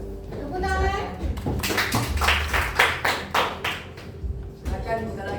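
A classroom of students claps hands together, a burst of sharp rhythmic claps that rises and then tapers off, with a teacher's voice speaking before and after.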